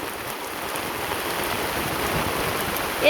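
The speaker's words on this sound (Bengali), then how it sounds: "খুব বৃষ্টি নামছে" Heavy rain pours down steadily, a dense continuous hiss of drops drumming on surfaces, close and loud throughout with no voices.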